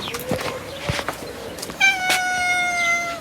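A cat meows close by, first with short scattered calls among small clicks, then one long, clear, drawn-out meow.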